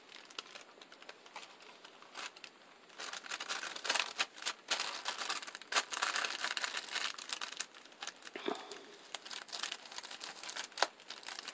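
Wax paper handled and crinkled during altered book journal making, with a steady stream of close, papery rustles and crackles, no speech.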